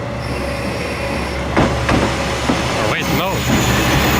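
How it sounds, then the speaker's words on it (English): A train on Japan's Geibi Line rolls past nearby with rumbling wheels, clanks and a couple of high squealing whines, while a person speaks briefly over it. "Hold on guys, there's another train coming."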